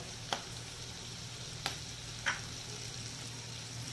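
Seasoned food sautés in a pan with salt, black pepper, chili flakes and oregano, a steady close sizzle broken by a few sharp ticks of stirring.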